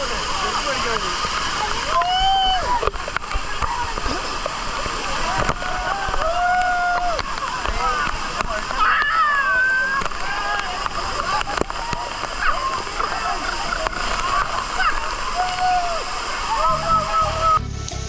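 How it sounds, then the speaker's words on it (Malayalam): Steady rushing roar of a waterfall at Illikkal Kallu, heard from its upper section, loud and continuous throughout, with people talking over the water. "ഇപ്പോൾ ഈ വെള്ളച്ചാട്ടത്തിൻ്റെ മേൽത്തട്ട് ഭാഗത്തിരിക്കുകയാണ് വന്നിരിക്കുന്നത്"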